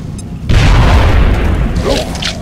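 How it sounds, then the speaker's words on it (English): A grenade blast in the video game XCOM Enemy Unknown lands as one loud, close boom with a heavy low rumble that rolls on and slowly fades. "Throwing grenade."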